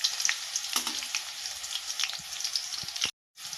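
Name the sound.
green chillies sizzling in hot ghee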